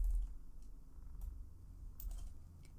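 Keys clack on a computer keyboard as code is typed, a sparse run of soft, close taps over a low background hum.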